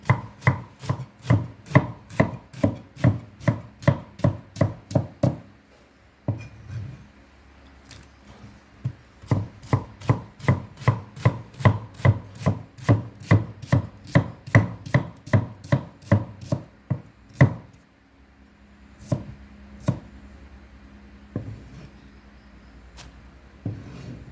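A knife chops banana blossom rapidly against a cutting board in long runs of steady, sharp strokes, pausing briefly between bursts, close and clear with no talking.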